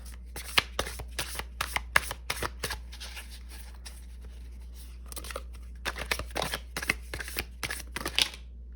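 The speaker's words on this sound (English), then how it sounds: "These are new deck cards, so they're kind of sticking" A brand-new tarot deck with slightly sticking cards is shuffled by hand at close range, a quiet series of crisp riffling flutters and soft snaps in irregular bursts.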